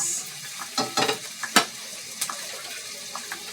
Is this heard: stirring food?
yes